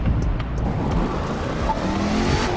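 A Dodge Challenger's engine in the racing game The Crew 2 drones and revs steadily and loudly throughout, with a constant engine roar and no talking.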